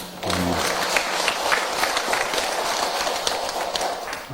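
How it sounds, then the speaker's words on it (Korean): A church congregation applauds during a Sunday afternoon service, a dense, steady patter of many hands clapping that starts abruptly and continues at moderate loudness. "하나님께 우리 영광의 박수 올려드립시다."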